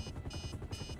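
Helicopter in GTA 5 approaching with a steady, close rotor thump, a low pulsing chop that holds across the whole moment at even loudness.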